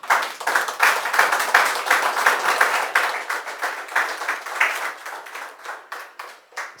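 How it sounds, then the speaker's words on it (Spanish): A church congregation claps in unison, a loud rhythmic run of applause that gradually thins and fades toward the end. "Dele un aplauso al Señor"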